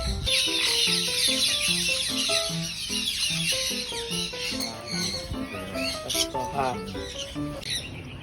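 Hens near a hole in a big tree, where they want to lay eggs, cluck in a lively chorus of repeated short calls, close by, with background rustle and a voice now and then.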